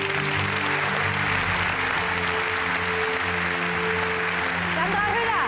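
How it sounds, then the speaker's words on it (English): Broad, steady audience applause greeting the international jury at the Berlinale 2019 opening gala, continuous and full over music with a voice audible beneath. "A big round of applause for them,"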